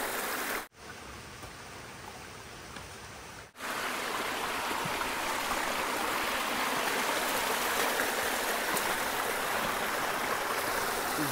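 The Nalla Raiguda waterfall in deep forest gives a constant, full rushing roar of falling water. A brief stretch near the start sounds muffled and thinner before the steady roar returns. No voices.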